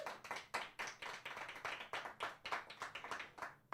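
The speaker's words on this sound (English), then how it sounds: "Give yourselves a round of applause in the studio" Studio audience clapping and applauding, a dense run of many hands clapping close and fairly loud throughout, with no talking over it.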